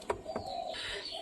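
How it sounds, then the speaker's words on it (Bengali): Pigeons at a pigeon loft give a short, soft coo, faint and close, with a couple of quick murmured notes in a quiet moment. "তো বন্ধুরা ওরকম কবুতর লফটের কাছে চলে আসলাম।"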